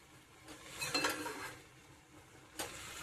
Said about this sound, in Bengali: ঢাকনাটা খুলবো।